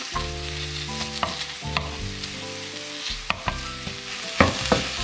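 Onion, ginger paste and egg sizzle in a pan for chicken noodles, with a steady frying hiss, a low background hum and repeated sharp clinks of a utensil against the pan.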